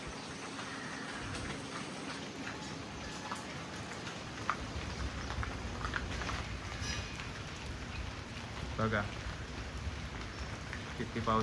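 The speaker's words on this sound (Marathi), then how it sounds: "किती पाऊस पडले." Heavy monsoon rain falls steadily on surfaces outside a house, a constant close hiss with a brief spoken word over it.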